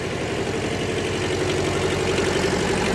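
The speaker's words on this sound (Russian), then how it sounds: "Трактор едет на пониженных." A Kubota Bulltra 10 mini tractor without power steering runs in low range, its engine a loud, close, steady throbbing chug with no break throughout.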